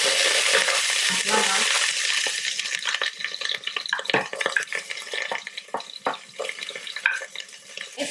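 Aromatics sautéing in a hot pan for sinigang na lechon, a steady sizzle with scraping and stirring clatters from a utensil, close and fairly loud, easing into irregular stirring noises.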